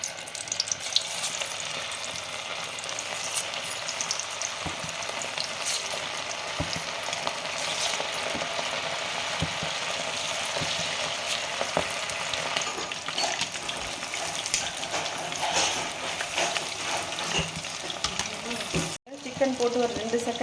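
Chicken 65 pieces fry in hot oil in a home kitchen, giving a steady, dense sizzle that runs throughout. Occasional clinks and stirring noises come through, along with brief speech.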